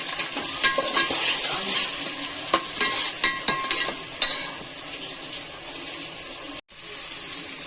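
Coriander and mint paste is stirred into sizzling biryani masala in a pan, with rhythmic spoon scrapes and clinks over frying for about four seconds, then steadier sizzle with a brief dropout.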